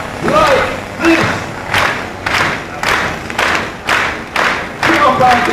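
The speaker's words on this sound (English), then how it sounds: "please give us the support with a slow hand clap like this" A street crowd watching a Covent Garden busker claps in a slow, unified rhythm, about seven loud, evenly spaced claps with ringing decay between each, with a voice calling out over the first beats.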